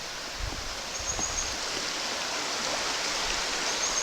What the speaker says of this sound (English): Nice little river.